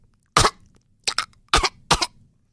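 A person's voice imitates a parrot coughing, giving four sharp, close coughs: one, then after a pause a quick double and a final single, with no words spoken.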